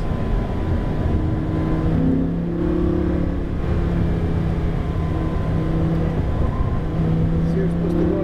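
Car engine pulling under light throttle, a steady low drone that rises slightly in pitch across the clip, close and continuous.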